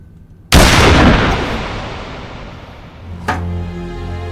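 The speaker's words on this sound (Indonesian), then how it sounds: "ia malah ditembak mati" A gunshot in a film scene where a labourer who lost a fight is shot dead: one loud, sharp blast with a long ringing decay, then a second, lighter crack a few seconds later.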